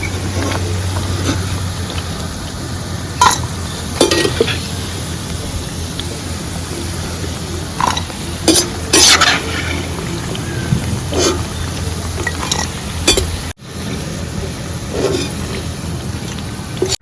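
Bitter gourd pieces fry with a steady broadband sizzle in a pan while they are cooked for a buttermilk-and-jaggery kakarakaya fry, with scattered scraping clicks of stirring throughout and a brief break near the end.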